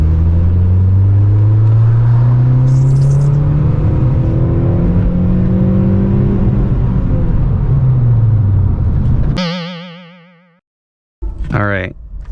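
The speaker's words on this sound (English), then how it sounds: "So I need to do another wide open throttle pull right here so that he can create as accurate as possible e-dyno numbers" A car engine climbs in a long wide-open-throttle pull with VTEC engaged, loud and rising for several seconds before cutting off, followed by a burst of warbling electronic effects.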